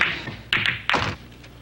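Billiard balls during a behind-the-back pool shot, heard as a few close, crisp clacks and thuds spaced about half a second apart, each fading quickly.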